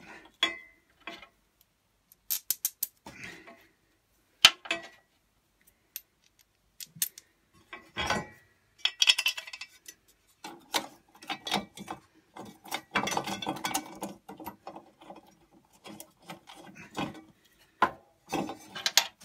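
A 14 ratchet spanner working the blade bolts on a Honda HRD 536 lawn mower, with scattered quiet clicks and short bursts of rapid ratcheting separated by near silence.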